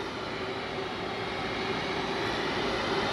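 A Lufthansa airliner bound for Chicago rolls down runway 07 center at Frankfurt Airport in frosty weather, giving a steady broadband engine roar with a faint tonal hum, continuous and moderately distant.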